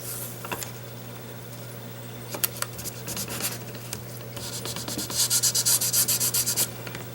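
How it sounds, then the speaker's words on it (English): An ink pad is rubbed over card stock during a Stampin' Up painter's tape card project, making soft, close scrubbing strokes that grow louder and quicken into a rhythmic back-and-forth near the end. "So you just kind of rub it onto here, move it down so you get this pretty well inked up."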